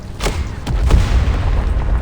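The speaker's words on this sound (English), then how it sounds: "There's a sudden ear-splitting pop followed by a thundering explosion as rocks spatter across her armor." An explosion in the video game Reverse 1999: a sudden sharp pop followed by a few heavy booming bursts with rumbling debris, loud and close, and no voices.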